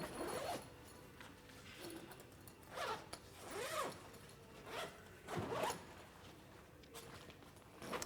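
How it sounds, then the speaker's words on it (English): A rooftop tent on a 4x4 hire vehicle is unzipped in several separate quiet strokes, each zip a short rasping pull with pauses in between and faint handling noise around them. "Milan is now going to open up the tent fully"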